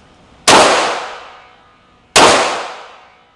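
Two sharp, loud shots from a Walther PPQ pistol ring out about a second and a half apart, each cracking suddenly and then fading in a long echoing tail.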